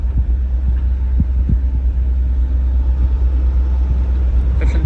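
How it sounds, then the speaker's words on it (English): A sailboat's engine runs while motor sailing, a loud, steady low throbbing drone with a faint rhythmic pulse that continues unbroken throughout. "I'm motor sailing."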